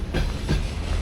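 Freight train rolling along rail tracks on a trip to Mongolia, a loud continuous rumble with rhythmic clatter that swells briefly near the start and again midway, close and steady throughout.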